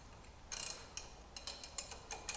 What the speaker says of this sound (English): now we can rotate the flywheel and withdraw the spacer between the 2